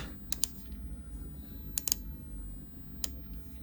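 A Davosa Ternos ceramic green diver watch's 120-click bezel being turned, giving small sharp clicks in short pairs and singles close up over a quiet low hum.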